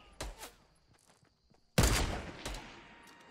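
Gunshots in Fortnite: a couple of faint distant shots, then a loud close blast with a ringing tail and another shot after it.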